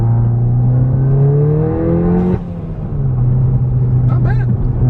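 Turbosmart blow-off valve on a MK7 Golf R heard from inside the cabin with windows up: engine drone rises under acceleration, then a sharp whooshing release as the throttle lifts, followed by renewed revving.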